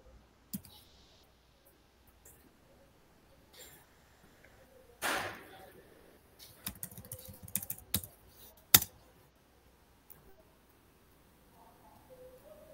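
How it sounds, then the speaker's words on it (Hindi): Scattered keystrokes on a computer keyboard as a domain name is typed, quiet and close, with sparse clicks and short bursts separated by pauses. "डालो, डोमेन नेम टाइप करो।"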